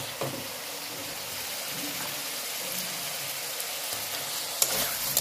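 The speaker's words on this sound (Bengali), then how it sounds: "তেলটা ছাড়লেই আলুগুলো দিয়ে দেবো। এবার বন্ধুরা আলুগুলো দিয়ে দেবো।" Potatoes frying in hot oil for a Bengali fish curry, a steady dense hiss of sizzling with occasional stirring clicks, close and continuous with no talking.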